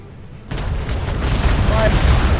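Ship cannons in the DarksideRP game open fire suddenly after a quiet moment, then continue as a dense, rumbling volley of booms that grows louder, with voices mixed in.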